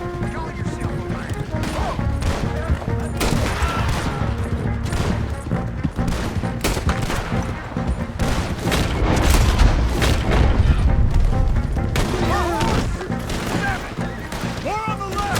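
Dense gunfire in a Red Dead Redemption 2 battle: a nearly continuous volley of loud rifle and pistol shots, crashes and booms, with shouted voices mixed into the chaos.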